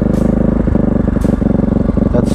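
A Kawasaki-Bajaj Rouser NS160 fitted with an Akrapovic exhaust holds a steady idle-to-3000 RPM rev, a loud, close, continuous throbbing drone with slight fluctuations and no talking.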